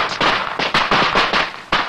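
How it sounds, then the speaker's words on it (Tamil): Firecrackers burst at night near a house, a rapid loud string of crackling explosions with short gaps, close and dense, no talk over them. "யாரு அது இந்த நேரத்துல வெடி வெடிக்கிறது?"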